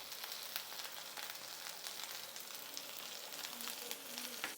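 Onion with curry leaves, green chilli and asafoetida sautéing in hot oil in a pan, giving a steady, close sizzle and crackle throughout, with no talk.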